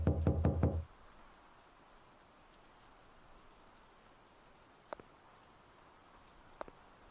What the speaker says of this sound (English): We're knocking pretty heavy, so I would assume that someone would have to answer